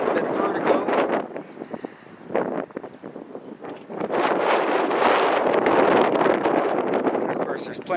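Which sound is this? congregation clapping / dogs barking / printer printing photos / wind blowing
wind blowing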